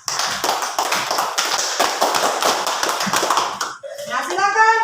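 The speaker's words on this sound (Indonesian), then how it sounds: "tepuk tangan dulu untuk kelompok Rosa." Classroom applause for a student group's performance, a steady clatter of many hands clapping close by for about four seconds, then a brief stretch of voices and a short squeak at the end.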